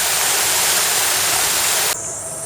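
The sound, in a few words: water jets of the Peace Fountain in Nagasaki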